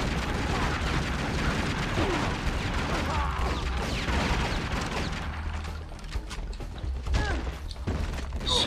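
Gunfire and explosions in the Tomb Raider Legend video game, a dense continuous barrage of shots and booms with mechanical clanks, moderately loud and unbroken through the whole stretch.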